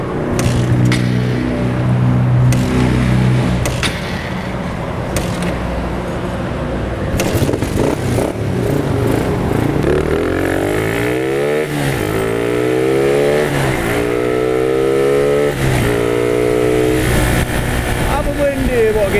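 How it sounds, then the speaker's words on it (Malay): A Suzuki Belang R150 motorcycle engine runs loud and close, idling then revving up repeatedly in rising sweeps, with speech over the engine throughout. "Motor ni adalah belang R, Suzuki belang R."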